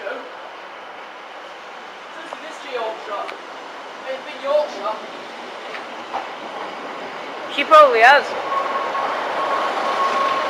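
Diesel multiple unit 156470 pulls in from Leicester with a steady rumble of rail noise, wheel and brake squeals and a short horn-like tone near the end, while a voice talks briefly over it.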